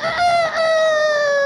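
A rooster crows once, a clear, close, drawn-out cock-a-doodle-doo lasting just over a second, with no other sound around it.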